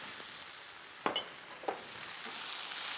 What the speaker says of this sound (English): So I'm going to go ahead and add all the rest of my herbs in. This is parsley, dill, cilantro, and green onions.